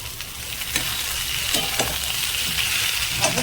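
Vegetables tipped into a pan of well-fried ginger for shukto hiss into a steady, close sizzle of frying, with a few brief stirring clicks over the constant crackle.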